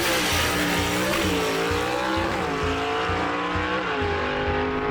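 Loud, continuous engine roar of a gasser drag racing car run hard down the strip, pitch rising and dipping with gear changes and throttle, heard close and unbroken throughout.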